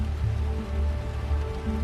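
Heavy rain falls in a continuous dense hiss on surfaces, steady and fairly loud throughout the short stretch, with no talking.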